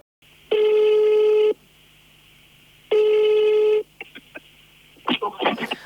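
A telephone line gives two long ringback tones about two seconds apart, then a few short clicks and a rustle of the handset being picked up.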